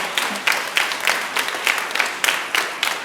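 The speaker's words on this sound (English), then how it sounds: "Let's give our choir a round of applause" An elementary school audience at a Veterans Day assembly claps for the school choir, a moderate steady patter of many hands with regular louder bursts, no voices.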